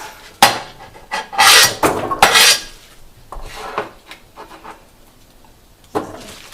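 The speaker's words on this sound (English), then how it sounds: "I'm going to cut the stemmy part and keep that separate" A knife slices through Chinese broccoli (yao choy) on a cutting board, giving several sharp chops and scraping cuts in uneven bursts, close and fairly loud with no talk.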